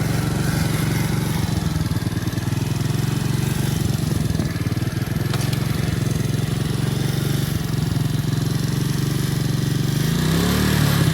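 A small engine on a homemade Mustang motor vehicle runs loud and continuous, with a throbbing low drone that stays steady for the full stretch and swells slightly near the end.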